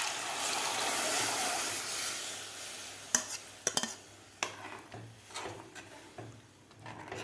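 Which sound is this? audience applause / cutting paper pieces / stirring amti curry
stirring amti curry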